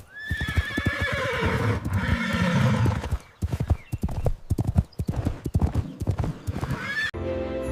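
A horse neighs loudly with a long whinny, then hooves clip-clop in a quick, uneven rhythm close by, with no speech.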